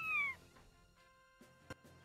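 A single cat meows clearly in the video game King's Quest 3 Redux, a short, falling cry, followed by a few soft thuds and faint background tones.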